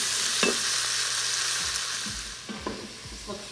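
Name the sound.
garlic sizzling while being stirred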